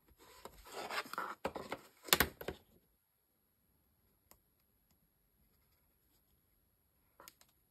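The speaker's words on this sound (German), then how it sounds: "Da kann man dann auch mal mit dem Falzbein drüber gehen," A bone folder rubs and scrapes over the creases of a folded paper box, a series of close scratchy strokes for the first few seconds, then near silence with a couple of faint taps.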